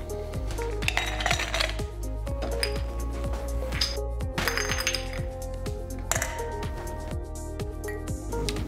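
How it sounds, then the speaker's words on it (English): Ice cubes clink and rattle into a champagne glass while an Aperol Spritz is being made, a busy run of bright glassy knocks and chinks that repeats for several seconds, loud and close. "we're going to start by adding ice into a champagne glass"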